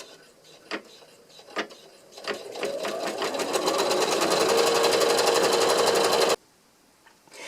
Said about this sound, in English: I'm going to put this into the machine and I'm going to stitch out that first step.